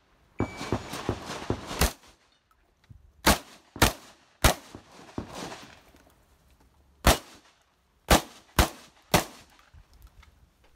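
Shotgun blasts at a practical shooting competition on a range: a rapid string of loud, close shots, then a pause, then more single shots spaced a second or so apart, with handling noise between them.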